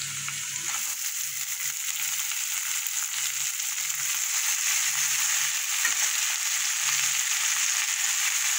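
Chopped greens hitting hot oil with fried garlic and onion seasoned with salt and turmeric, giving a steady, close sizzle of frying throughout with faint low clinks.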